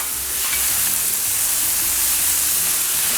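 Small-cut steak sizzles loudly on a Blackstone griddle in a constant, close, dense hiss of frying with no pauses.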